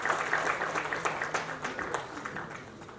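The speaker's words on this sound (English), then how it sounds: "big round of applause" Applause from an audience at a mountain clean-up campaign event greets a speaker, heard as moderately faint, steady clapping that carries on for a few seconds without talk over it.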